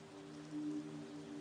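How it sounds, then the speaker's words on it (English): Rain falling harder, a steady continuous hiss with a low droning hum beneath, even and unbroken throughout. "The rain began to fall harder."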